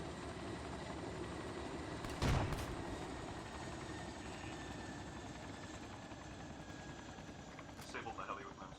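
A helicopter in the video game Arma 3 during an island assault drones steadily as a low, continuous rotor and engine rumble, with a sharp blast near the start and people talking over it on radio.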